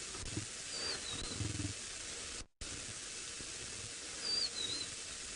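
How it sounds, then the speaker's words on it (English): A big male lion growls low and rumbling at close range on a sunrise safari drive, a deep steady grumble running beneath faint bird calls, with a brief gap partway through. "You can hear he's growling now."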